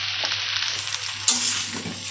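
Eggplant pieces frying in oil in a pan for a simple winter vegetarian dish, a steady close sizzle with scraping stir strokes and a sharper clatter midway, no talk.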